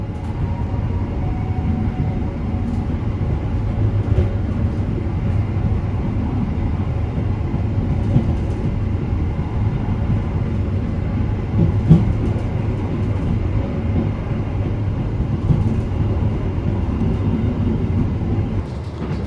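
Inside the Anggrek passenger train on the Jakarta-Semarang line, a steady low rumble of wheels on rails and carriage noise runs unbroken and loud, with faint clatter and no talk.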